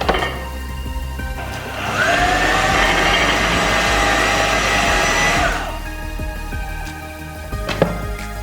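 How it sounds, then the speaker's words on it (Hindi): A blender whirs loudly for about three and a half seconds, blending banana cupcake batter in a steady whine, with quieter kitchen knocks and clatter before and after. "अब हम इस सारे को ब्लेंड कर लेंगे।"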